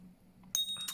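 A 99% pure silver coin is tapped, giving a couple of quick, bright metallic clinks with a short ringing tail, heard faintly and close in an otherwise quiet setting.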